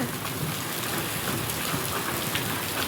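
Rain falls on a tin roof as a steady, dense hiss of drumming drops, continuous and even throughout, with no voices.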